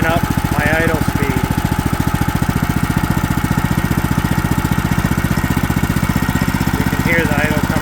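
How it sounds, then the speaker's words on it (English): Small engine running steadily with a fast, even pulse as the idle adjustment screw is turned clockwise and the idle speed climbs, loud and close, with someone talking over it. "Hear the idle coming on more and more."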